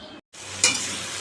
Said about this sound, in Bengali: এটা এখন ভাজবো কড়াইতে তেল দিয়ে দিয়েছি